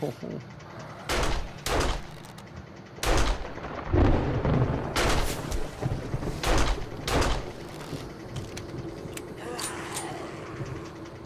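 Gunfire in 7 Days To Die during a day-seven horde: a series of separate loud shots spaced a second or so apart, some closer together, with someone talking between them.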